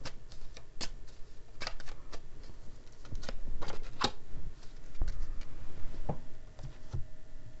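Tarot cards shuffled by hand at close range, a run of quick riffling bursts and soft card slaps in uneven rhythm, alone without speech.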